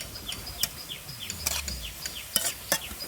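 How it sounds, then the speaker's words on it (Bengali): Garlic frying in mustard oil in a pan while being slowly stirred, with soft scraping strokes and light clinks of the utensil against the pan over a faint sizzle, repeated at an unhurried, irregular pace. "এবার আস্তে আস্তে নেড়ে চেড়ে রসুনটা ভেজে নেবো, যাতে রসুনটা ভাজতে ভাজতে ভালোভাবে সেদ্ধ হয়ে যায়।"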